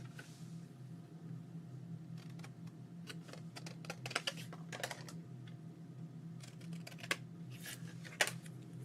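Scissors snipping paper for an art journal craft page, a series of crisp, irregular cuts close up over a steady low background hum.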